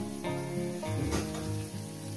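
Salted vegetables fry in oil for a coconut-milk shukto, giving a soft, even sizzle that runs throughout at low volume.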